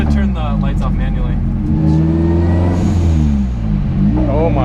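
Modified car with welded diff and stock transmission and clutch, engine rumbling and accelerating while driving, with people talking over the revving throughout.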